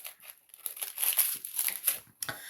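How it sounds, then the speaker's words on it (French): Crinkly paper packaging being torn open and unwrapped by hand, a run of close rustling and crumpling bursts with brief pauses, fairly soft, with no talking. "je suis désolée pour le papier, hein, mais il faut bien que je le déballe"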